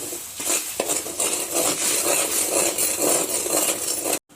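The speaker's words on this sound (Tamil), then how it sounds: "சர்க்கரை கரையிற வரைக்கும் நல்லா கலரி விட்டுக்கும்." Sugar being stirred in a pan for rava halwa, a steady scraping and sizzling hiss with a few sharp utensil knocks near the start, close and continuous before cutting off abruptly.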